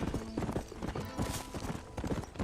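Horse hooves clip-clop steadily in the Western video game Red Dead Redemption, a close, busy rhythmic clatter of hoofbeats running through the whole stretch without pause.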